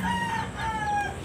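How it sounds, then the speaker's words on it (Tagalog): A rooster crows nearby, a drawn-out, wavering call, with hens clucking softly in the background. "May mga alagang manok dito."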